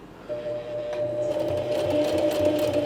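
A sewing machine stitches at 4mm stitch length while sewing a coin purse, a steady rhythmic mechanical whirring and ticking hum that starts up and runs continuously, close and fairly loud.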